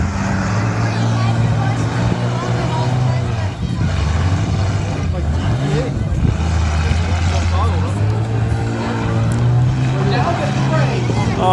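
A loud engine runs steadily throughout, with a low rumbling drone and a busy murmur of crowd noise mixed in.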